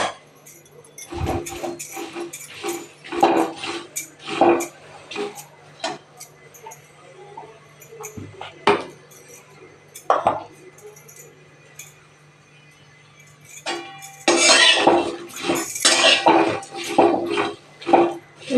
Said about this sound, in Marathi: मग मी आता हे मिरचा भाजून घेते